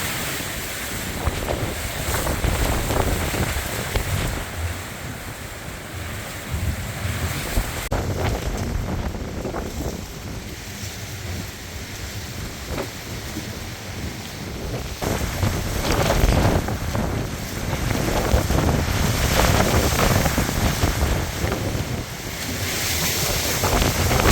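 Strong hurricane wind roars steadily over a wet Palm Bay, Florida scene, with broadband gusting rush and surf-like swells building louder toward the second half, no voices over it.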